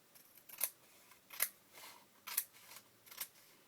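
Scissors snip through paper for a handmade autumn craft tag, four crisp separate cuts spaced roughly a second apart, close and fairly quiet with no talking.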